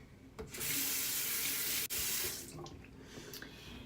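Warm water runs steadily from a bathroom sink tap during a skincare rinse, a loud broad rush that starts abruptly, breaks off for an instant, then tapers into quieter trickling.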